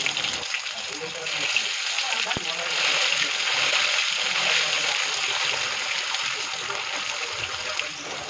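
Garlic paste hits hot oil with fried panch phoron in a pan while a chili pickle is made, producing a steady, close, broadband sizzle that holds throughout.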